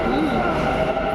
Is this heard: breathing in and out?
no